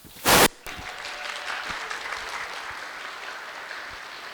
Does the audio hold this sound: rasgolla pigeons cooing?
no